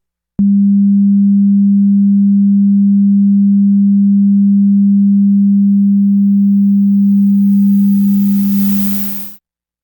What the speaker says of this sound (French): portons attention à ce bruit provenant du dithering qui masque les erreurs de quantification